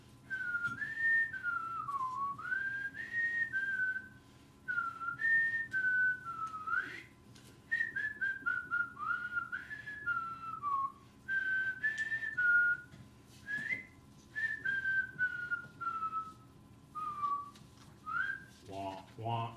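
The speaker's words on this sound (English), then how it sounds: "What was I just whistling? Jeopardy. Jeopardy's music, very good." Someone whistles the Jeopardy theme tune in a math classroom lesson: clear, close, solo melodic phrases with short gaps between them, then a faint voice at the end.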